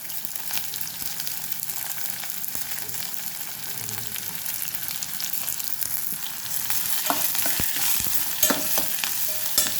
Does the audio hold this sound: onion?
yes